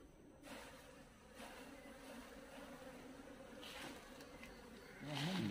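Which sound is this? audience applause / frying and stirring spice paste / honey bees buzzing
honey bees buzzing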